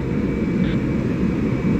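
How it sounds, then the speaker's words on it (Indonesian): A state aircraft carrying the Turkish president prepares for takeoff at Halim Perdanakusuma airbase in Jakarta, its engines a loud, steady, low rumbling drone that continues unbroken. "menjelang pesawat kenegaraan yang akan lepas landas sesaat lagi dari Lanut Halim Perdana Kusuma, Jakarta."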